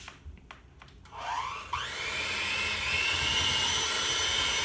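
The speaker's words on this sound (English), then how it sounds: "we're going to cut the blender on, and you want to cut it to medium speed and blend for about 2 minutes" A blender mixing cake batter at medium speed whirs up after a few clicks, rising in pitch as the motor spins up, then settles into a steady loud hum with no voices.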